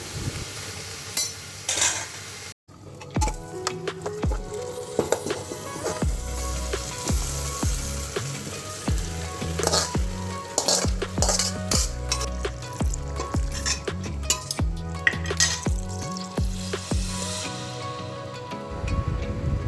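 Vegetables sizzle in a wok while a utensil repeatedly scrapes and stirs, producing rhythmic clinks and rustles close by.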